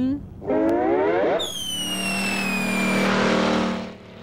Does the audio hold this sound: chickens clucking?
no